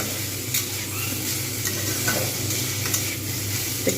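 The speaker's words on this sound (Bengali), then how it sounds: "এইবার আমি এটা একদম একটু ভালো করে একদম পুরো নেড়ে নেব" Kohlrabi being stirred and frying in a pan for a Bengali chhechki, a steady close sizzle with soft spatula scrapes and light clinks recurring throughout, no talking.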